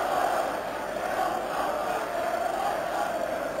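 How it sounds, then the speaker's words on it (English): A packed football crowd at Windsor Park for Northern Ireland against the Republic of Ireland in 1988, a broad sustained roar of massed chanting voices, steady and distant-sounding, with no other speech. "Crowd chanting."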